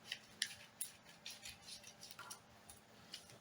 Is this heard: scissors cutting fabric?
yes